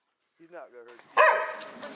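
A puppy at an outdoor clay pipe drainage dig gives a short whimpering yip, then one loud close bark, alone without talk.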